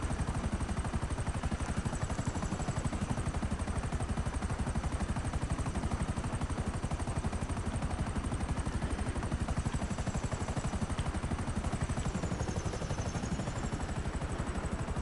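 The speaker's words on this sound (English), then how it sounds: "I feel like there's a jet near me" A jet roars past nearby in the GTA video game, a steady loud broadband rumble with a whine on top that dips in pitch around twelve seconds, holding for the whole stretch with no talk.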